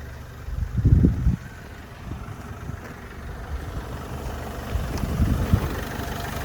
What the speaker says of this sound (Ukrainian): Отака робота мотора.